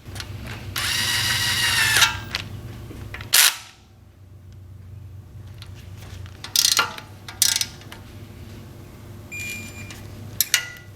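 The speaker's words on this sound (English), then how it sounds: "And then we'll bolt this down tight." Ratchet or small power tool tightening bolts on an engine oil pump during engine assembly, a long buzzing burst followed by several shorter clicking bursts, near and loud with quiet pauses between.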